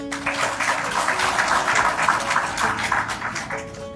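Audience applause in an official hall for Burkina Faso's president, Captain Ibrahim Traoré, at a Sahel States Confederation ministerial meeting: dense, steady clapping throughout, with a voice faintly present.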